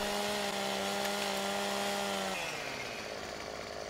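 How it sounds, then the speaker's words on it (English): A chainsaw trims a fir tree in Farming Simulator 15, its steady high engine whine running loud and close for over two seconds before dropping off into a lower, fading idle. "So I'm gonna trim down this tree."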